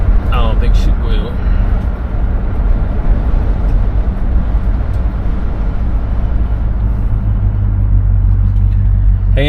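A 1973 Buick Centurion cruises along with a steady, loud engine and road rumble throughout, someone talking over the drive at intervals.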